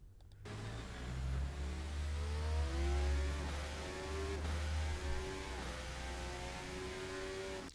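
A 2026 F1 car in a racing video game at the Barcelona circuit, its engine a loud, continuous high-pitched whine that falls and rises in repeated stepped sweeps as it brakes and downshifts through a corner.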